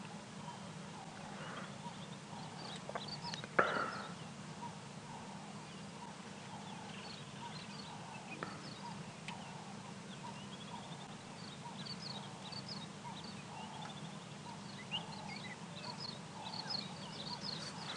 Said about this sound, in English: Cape turtle doves this morning calling. There is a grey-headed bush shrike in the distance.